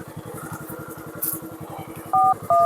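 Two clear DTMF dial tones sound on a phone near the end, each held briefly, over a steady rhythmic engine idle with pulsing low thumps in a rural roadside setting.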